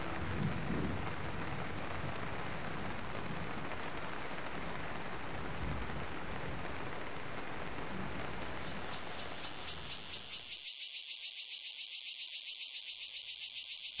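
Steady, dense rain pours down in a summer afternoon storm over grassland, a continuous loud hiss that gives way near the end to a rhythmic pulsing chorus of insects.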